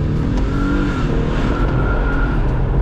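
An Infiniti G37 in sport mode accelerates hard in low gear, its engine roaring loud and steady from inside the cabin with no gaps, drowning out everything else.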